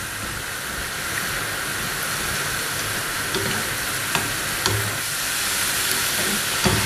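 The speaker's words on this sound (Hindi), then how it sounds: "ये हमारे जो फिंगर चिप्स हैं ये फ्राई हो चुके हैं।" Finger chips sizzle in hot oil for a Hindi/Urdu chicken cheese sandwich recipe, a steady, even hiss of frying with a few faint clicks and pops, no voices.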